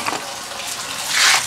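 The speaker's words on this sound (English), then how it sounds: "in order to help the coolant drain out faster, we should always remove your radiator cap" Engine coolant drains out of a Hyundai Elantra during timing belt work, a steady hissing splash of liquid pouring from the engine that swells louder near the end of the short stretch, with no talking.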